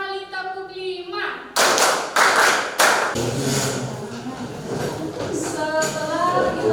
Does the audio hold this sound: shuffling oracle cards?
no